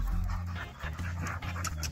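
A dog at a shelter for sick or injured dogs pants rapidly and steadily at close range, with a faint whimper-like tone and no talk over it.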